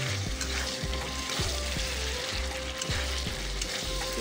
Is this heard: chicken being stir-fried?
yes